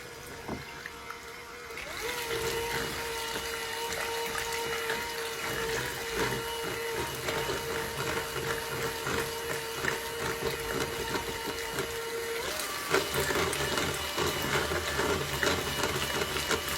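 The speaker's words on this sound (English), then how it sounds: "we've got the 3 eggs, the 8 ounces of softened cream cheese right here. We're going to beat that slowly." An electric hand mixer beats three eggs with eight ounces of softened cream cheese. A steady motor hum runs throughout under constant scraping and churning, and the pitch shifts slightly after a dozen seconds.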